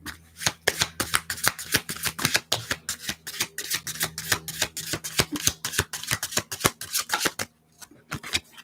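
A deck of cards being shuffled at close range, a dense run of quick crisp riffling snaps for several seconds, then a short pause and a few final taps, with no voices.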